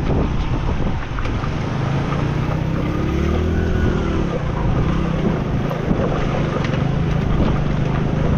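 A Passion Pro motorcycle crosses running water on a mountain road on a Ladakh trip, with steady rushing water and low engine rumble under continuous wind buffeting the microphone, no talk.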